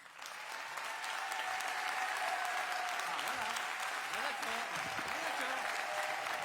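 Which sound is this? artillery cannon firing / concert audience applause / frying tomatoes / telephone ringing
concert audience applause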